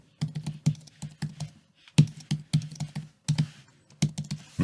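Quick, crisp keystrokes on the physical keyboard of a Samsung Galaxy Tab S8 Book Cover Keyboard, tapped close up in bursts of clicky, plasticky presses with short pauses between groups, no voices present.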